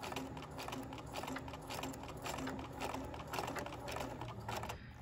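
A sewing machine runs in reverse, backstitching over a ribbon on a fabric bookmark, with a faint, steady, rapid needle chatter that continues evenly throughout.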